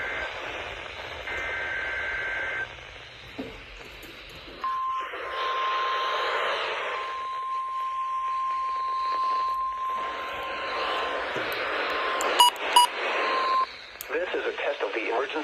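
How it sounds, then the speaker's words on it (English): A NOAA weather radio emergency alert sounds over a broadcast receiver, with data bursts followed by a long steady warning tone of several seconds, then an announcer's voice and further short tones. "This is a test of the emergency alert system and NOAA weather radio's warning alarm"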